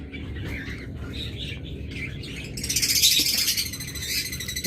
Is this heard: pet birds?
yes